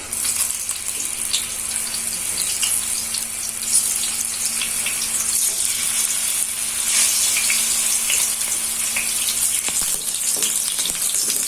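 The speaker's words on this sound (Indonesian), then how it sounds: "di sini untuk tahunya ini saya goreng dulu" Steady, loud sizzling of tofu frying in hot oil, continuous throughout with no voices.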